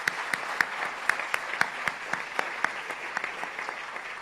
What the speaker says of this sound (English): let's begin by giving a big round of applause to our esteemed guests